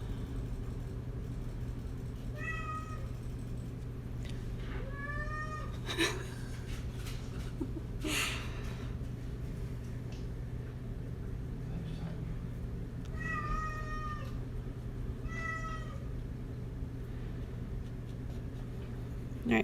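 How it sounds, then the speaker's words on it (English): An indoor cat meows repeatedly in separate short calls spread across the stretch. A steady low hum runs underneath, with a few faint scraping or writing sounds between the meows. "Do you guys hear this cat?"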